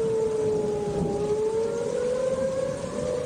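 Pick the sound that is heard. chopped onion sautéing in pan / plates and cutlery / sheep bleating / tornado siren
tornado siren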